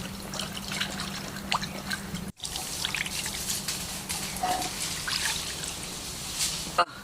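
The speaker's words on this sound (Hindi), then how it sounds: "अब हम पानी से इसको अच्छी तरह वॉश कर लेंगे।" Water runs and trickles steadily as mud fish is washed, a continuous pouring and dripping with light splashes, fairly close and alone apart from a brief break partway through.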